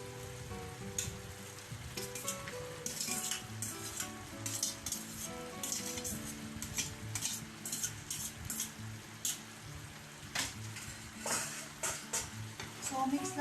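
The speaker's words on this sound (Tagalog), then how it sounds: "So, mix lang natin very well hanggang mag-incorporate yung pasta natin doon sa sauce." Boiled spaghetti being stirred into sauce in a pan, a steady sizzle with repeated utensil scrapes and clinks against the metal, moderately loud and close, without talk.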